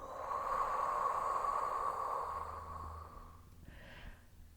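A deep inhale and long exhale during an at-home Pilates thigh workout, a steady breathy rush lasting several seconds that slowly fades, close and fairly loud, with no talking.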